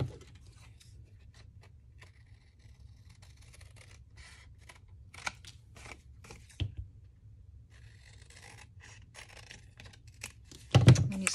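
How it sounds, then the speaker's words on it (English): Paper being cut with scissors to make a pocket and sleeve for a 45 record: a quiet run of soft snips and light scratchy rustles in a calm room, ending in a louder burst of handling noise. "so we're gonna cut these two away"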